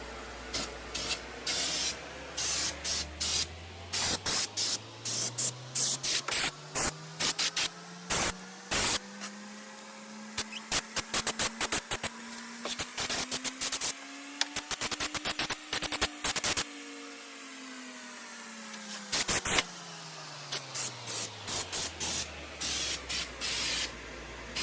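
Hissing bursts from an aerosol can of stainless steel spray paint, released in short and long pulses, loud and close, with breaks between sprays and a low humming tone rising and falling underneath.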